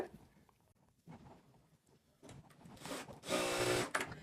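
A sewing machine stitching a bolster pillow cover runs quietly, with faint clicks and handling noise, then gives one short, louder whirring burst of stitching near the end.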